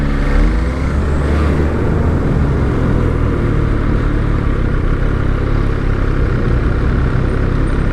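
An MV Agusta Brutale 800 motorcycle rides along with a loud, continuous engine roar and wind rush, the revs rising and dipping as the quick shifter clicks through gears.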